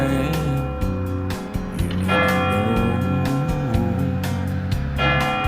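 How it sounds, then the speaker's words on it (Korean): Church bells ring out at 8 a.m. in Schwarzenbach an der Saale, Germany, a loud, sustained peal of overlapping tolls with steady repeated strikes, heard alone without talk. "아, 여도 오전 8시입니다. 종소리가 함께 들리고 있습니다."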